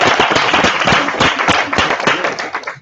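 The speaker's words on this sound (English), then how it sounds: "Let's clap for them." A room full of people gives a burst of warm applause to welcome back two alumni guests, with dense, steady clapping that fades slightly toward the end.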